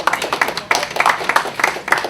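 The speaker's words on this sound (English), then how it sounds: "Let's give him a round of applause and say welcome." A small audience claps briefly to welcome a guest speaker, Chris Kashavitz: a couple of seconds of loose, uneven hand claps in a room, close and moderately loud.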